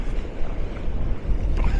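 Wind buffets the microphone on a breezy beach at Maspalomas, Gran Canaria, with the low wash of ocean waves rolling underneath, a continuous rumbling roar and no voices.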